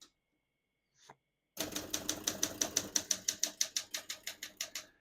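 A 1970 Olympia SM8 vintage portable typewriter typing: a rapid, steady run of crisp key strikes, close and loud, after a couple of isolated clicks.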